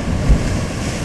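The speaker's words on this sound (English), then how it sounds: "But we got a little waves action here." Ocean waves washing in under gusting wind buffeting the microphone, a loud steady wash with one low thump near the start, no voices.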